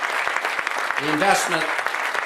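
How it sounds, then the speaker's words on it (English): An audience applauds at a public wind supply chain announcement event, a steady burst of clapping with a voice calling out briefly over it. "Let's give them a round of applause for making the investment"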